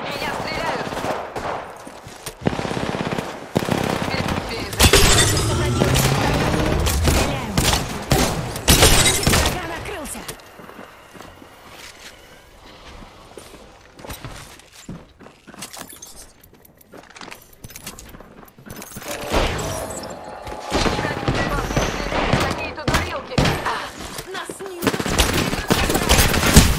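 Rapid bursts of automatic gunfire from a combat video game crackle loudly in clusters, pausing midway, with a voice talking over parts of the action.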